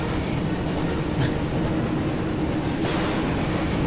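A steady, loud rumble of a rushing train in the PS1 game Harry Potter and the Chamber of Secrets, with rattling wheel noise and no voices.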